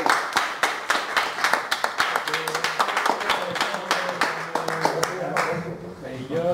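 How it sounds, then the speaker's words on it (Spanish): Audience applause at a religious gathering honoring a rabbi, sharp individual claps from a small crowd building into a rhythmic patter, with voices talking over it. "Un aplauso,"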